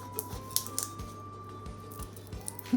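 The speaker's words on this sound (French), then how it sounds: "je vais couper les citrons en deux" A kitchen knife slices lemons in half during cookie baking, giving a few short, crisp cutting clicks spaced irregularly, faint and close over a steady low room hum.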